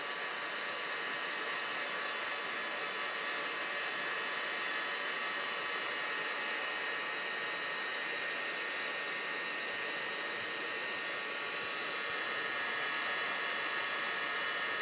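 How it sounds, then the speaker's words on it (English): A heat gun blows hot air to shrink heat-shrink tubing onto a wire, a steady close hiss of rushing air that holds at one level throughout, with no other sounds. "this is just like a very, very hot hairdryer"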